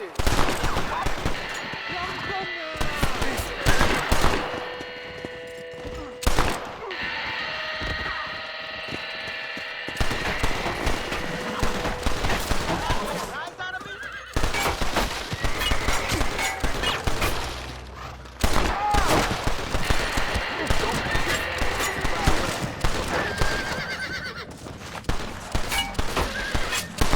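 Gunfire in the western video game Red Dead Redemption, loud bursts and rapid volleys mixed with horses whinnying and hooves clip-clopping, alongside game music and effects.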